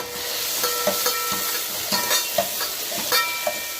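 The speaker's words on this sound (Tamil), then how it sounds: "கொஞ்சோண்டு வெண்டைக்காய் அதில் சேர்த்து இதோடைய சேர்த்து நான் வதக்கிறேன்" Onions and okra sautéing in a pan for radish sambar, a steady close sizzle broken by repeated scraping and stirring strokes, with no voices.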